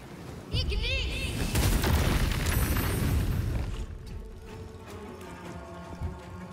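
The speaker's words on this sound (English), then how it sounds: "Boom! Boom! Explosions everywhere, chat." Explosions burst in Baldur's Gate 3 after an alchemist fire is thrown: a loud crack and booming blast, then rumbling debris that fades over several seconds while a person talks.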